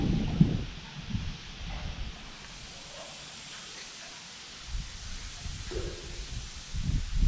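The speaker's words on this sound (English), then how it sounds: "The wind's blowing real hard and pushing his bobber." Strong wind blows outdoors during late-summer bluegill fishing, a steady broadband rush with gusty swells and low rumbling buffets against the microphone, loudest at the start and end.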